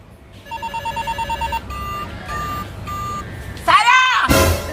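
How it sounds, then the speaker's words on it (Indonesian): A telephone rings in a burst of repeated electronic trills, then gives a few single tones, followed by a louder warbling ring and a rustle, close and clear. "telepon siapa lo?"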